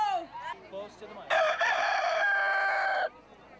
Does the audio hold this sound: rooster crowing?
yes